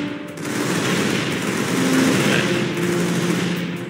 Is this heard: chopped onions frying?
no